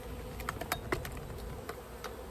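Honey bees buzzing around an open hive and a nuc box outdoors, a soft steady drone with brief louder buzzes as individual bees fly close past.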